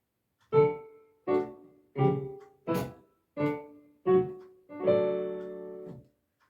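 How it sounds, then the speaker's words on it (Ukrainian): Seven distinct piano notes struck one after another at a steady pace, the last one a fuller chord left to ring out, clear and close. "А якщо я вам заграю на піаніно?"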